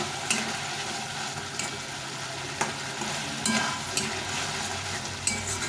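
Potatoes frying and being stirred in oil in a pan for an egg curry, with a steady close sizzle broken by a few sharp scraping strokes of the spatula, no voices.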